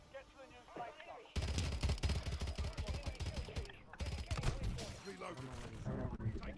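Video game gunfire: sustained rapid bursts of shots that start abruptly, break off briefly, then resume, with a voice over the shooting.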